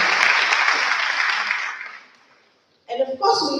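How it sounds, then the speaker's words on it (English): Loud, dense audience applause at a school Grade 12 awards ceremony, fading out over about two seconds before a voice begins speaking. "Give them a round of applause, ladies and gentlemen."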